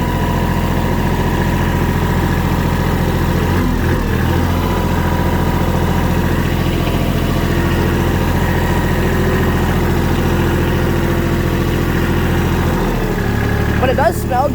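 Loud, close diesel engine holding steady at around 1900 RPM with a constant low throb and drone, a voice talking over it and a brief shift in tone near the end.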